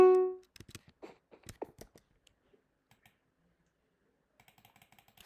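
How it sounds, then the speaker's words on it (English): Computer buttons that are not working are clicked repeatedly, with sharp, irregular clicks in small clusters that thin out and then pick up again, close and fairly quiet, after a brief electronic tone at the start. "I'm clicking it."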